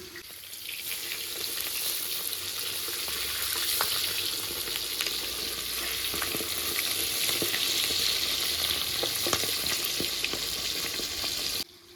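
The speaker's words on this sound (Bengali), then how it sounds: "এক সাইড ভাজা হয়ে গেছে এবার উল্টে দিচ্ছি" Pieces of bata fish fry in hot oil in a pan, giving a continuous sizzle with occasional light clinks and stirring. The sound holds steady for about eleven seconds, then cuts off abruptly.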